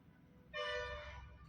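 A bus horn blares once near a forest road where an elephant blocks traffic, a single loud sustained honk of about a second that fades at the end.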